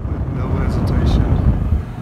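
A Coleman air conditioner's squirrel-cage blower fan, freshly fitted with a new capacitor, runs with a steady, loud broadband whoosh and low rumble from start to finish, close by.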